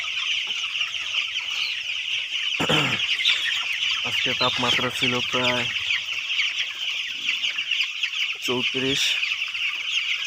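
Roosters clucking in short, close bursts on a hot midday, with a quick rhythmic run of clucks and a second brief burst later, over a steady high insect-like drone while a person talks.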